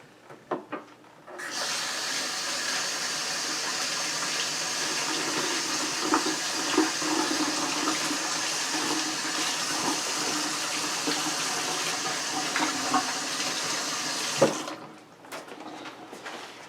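Tap water runs steadily into a sink for about thirteen seconds while hands are washed during turkey preparation, with a few clicks at the start and end.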